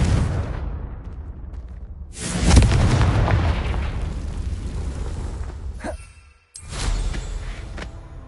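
A Confringo blasting curse in Hogwarts Legacy detonates as a loud, deep boom, then a long rumbling roar that fades and is followed by a second burst of debris-like rumble.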